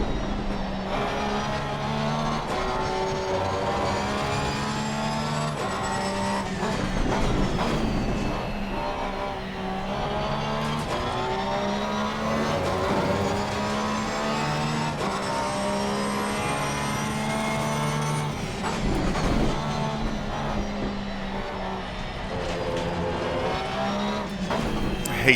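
A Porsche race car in Assetto Corsa Competizione at Paul Ricard, its engine whining loudly and continuously as it climbs and drops through gears, with repeated shifts and revving close up and a faint voice underneath.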